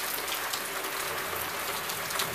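Steady rain falling in Tijuana, a continuous even hiss of drops striking surfaces nearby, with no voices.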